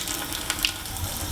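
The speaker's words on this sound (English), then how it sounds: "then we're going to turn on the water" Cold tap water running to feed a wort chiller while homebrewing a rye IPA: a steady splashing faucet stream with small gurgles and drips, close and moderately loud, alone.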